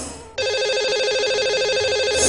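Telephone ringback tone on a radio call-in show, heard alone as a steady repeating electronic ring after a short burst of background noise, with no talk.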